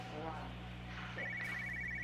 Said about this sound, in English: I hear the phone.